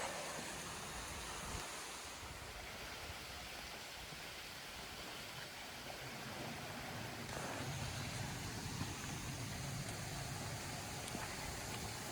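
Water flowing steadily through a channel at an old mill in Cades Cove on a cold, quiet morning, a continuous broadband rush heard close and alone, with a slight shift in texture partway through.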